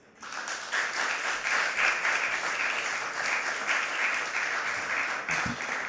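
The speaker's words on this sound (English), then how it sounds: "please welcome Charles Caldas of the global rights agency Merlin with a warm applause" Sustained applause from a conference audience welcoming a keynote speaker at a music industry event, a steady dense wash of clapping that swells quickly and holds for several seconds.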